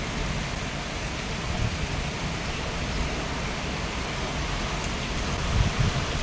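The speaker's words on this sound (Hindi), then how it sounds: "बहुत तेज़ हवा के साथ बारिश है, भयानक हवा है।" Heavy rain pours down under strong, fierce wind, making a dense, unbroken hiss that stays loud throughout, with a couple of low gusty thumps near the end.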